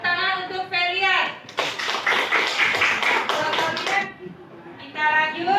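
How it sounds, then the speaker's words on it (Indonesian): A class of young students claps for a classmate, a short burst of quick hand clapping rising suddenly and fading after a few seconds, with a voice speaking before and after. "tepuk tangan untuk Felian"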